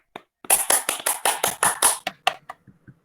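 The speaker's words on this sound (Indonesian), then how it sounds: "Beri tepuk tangan kepada kelompok 2." A classroom group claps for a discussion group, with about eight loud, sharp, rhythmic claps in unison, then a few scattered, fading claps.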